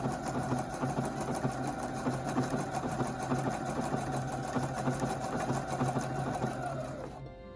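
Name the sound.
sewing machine stitching fabric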